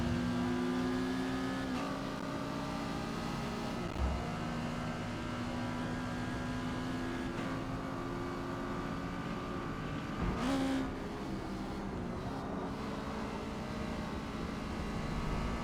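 A race car engine in Forza Motorsport at Laguna Seca, B class with an Exocet, drones steadily and loud throughout, with gear shifts and pitch swells as it climbs and drops between revs.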